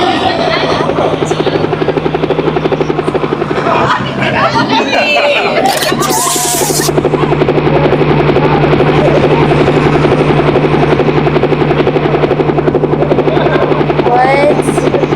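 A police helicopter hovers over a rooftop car meet in Los Angeles, its steady rotor drone loud and continuous throughout while people chatter and exclaim nearby.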